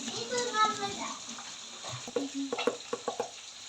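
Wet, squelchy kneading as chili is mashed and mixed by hand into nappi fish paste for a bhorta, close and uneven, with a voice heard briefly at the start.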